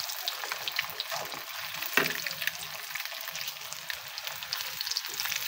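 An egg fries in a pan with a steady, crackling sizzle, broken by a few scraping stirs and one sharper clatter near the middle, with no voices.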